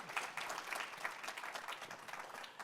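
A room audience applauds continuously, dense overlapping clapping at moderate volume and slightly distant, holding steady throughout with no speech on top.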